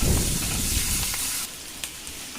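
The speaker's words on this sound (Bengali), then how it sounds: "এবার আমি ওর মধ্যে দিয়ে দিচ্ছি কিউব করে কেটে রাখা পেঁয়াজ আর ক্যাপসিকাম এটাকে কিন্তু খুব বেশি ভাজবো না হালকা ভেজে নেবো" Cubed onion and capsicum fry lightly in butter with garlic, a loud dense sizzle filling the first half, then easing to a softer crackle with a few light stirring clicks.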